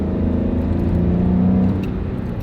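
A Ford F-150 engine runs steadily on a drive after a throttle body replacement, giving a continuous close, even low rumble with a slight rise in pitch midway and no talk over it.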